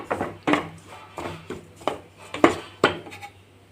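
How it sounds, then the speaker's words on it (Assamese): A spatula scrapes and knocks against a pan about eight times while rice flour for pithaguri halwa is stirred and toasted, sharp and close with short quiet gaps. "ভালদৰে ভাজি লৈছোঁ এইখিনি।"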